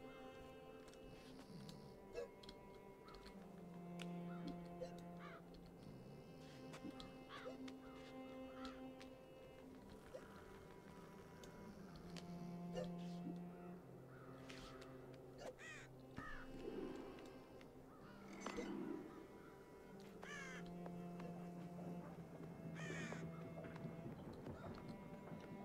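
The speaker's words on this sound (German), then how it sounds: "Noch mehr betrunkene Krähen." Crows cawing in the video game Child of Light, repeated harsh calls rising over a soft melodic game soundtrack, fairly quiet overall.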